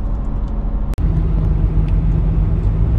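A Driveo rental car on a road trip around Europe hums along with a loud, steady low engine and road drone, heard from inside the cabin with no talking and one brief dropout.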